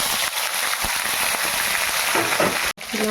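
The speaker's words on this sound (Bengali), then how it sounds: "কটা লবঙ্গ আর ডালচিনি আমি এর মধ্যে ফোড়ন দিলাম।" Whole cloves, cinnamon, cumin seeds and ginger spit and crackle in hot oil for soybean curry, a steady close broadband hiss with a brief dropout near the end before the sizzle resumes.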